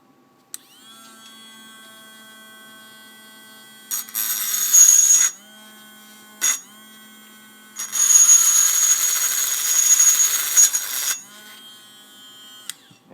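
Dremel rotary tool grinding on a stuck Mosin Nagant bayonet: a steady high electric whine, cut by two loud bursts of grinding, a longer one in the middle, plus a short blip between.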